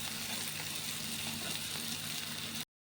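Bitter gourd fries in a pan with a steady, close, even sizzle and hiss that stops abruptly before the end.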